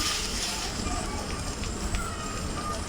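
Bottle gourd peel paste with ginger paste frying in a pan on a village stove, a steady broadband sizzle with faint crackles running continuously at moderate level.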